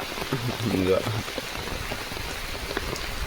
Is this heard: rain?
yes